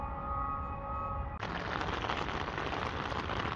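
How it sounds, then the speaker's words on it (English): A sudden burst of rain in Denver starts abruptly after a quiet moment, turning into a loud, dense, steady patter of drops hitting surfaces close by, with no voices. "This little burst of rain here was not on the radar"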